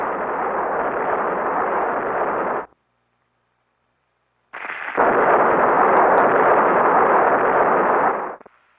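Two long, dense roaring blasts separated by a few seconds of near silence, loud and muffled like old film explosions, with some crackle, from an early Spider-Man film.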